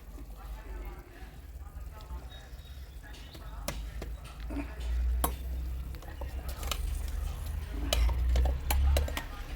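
Ground masala is stirred into a meat curry in a clay pot, with a ladle scraping and knocking in scattered sharp clacks over a low simmer while a person talks throughout.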